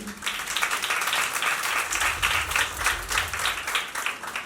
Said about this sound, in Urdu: زوردار تالی بجائیں